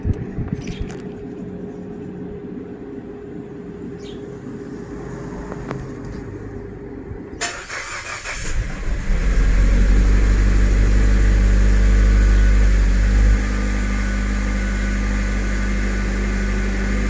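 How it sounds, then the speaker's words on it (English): A Mazda CX-5 engine cranks and catches partway through, following a quiet cabin hum and faint clicks, then settles into a loud, steady low idle rumble. "let's see whether the engine vibrates"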